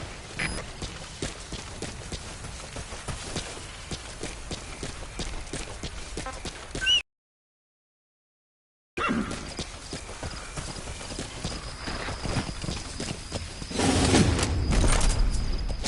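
A horse's hooves clip-clop steadily in a video game, a continuous gait that stops briefly and then resumes, with a whinny and busier galloping toward the end.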